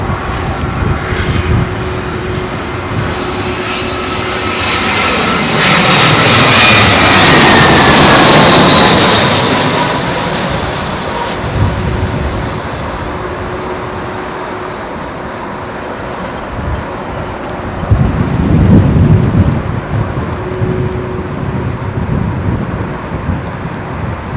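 A heavy jet airliner lands on runway 27L at London Heathrow in a southwesterly crosswind, its engine roar swelling loud as it passes close, then fading into a distant rumble with a brief second surge of noise.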